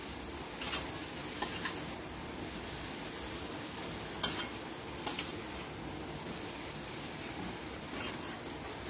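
A spatula stirs and sautés masala in a pan without pause, a constant close sizzle broken by a few sharp scrapes and taps against the metal, with no talking.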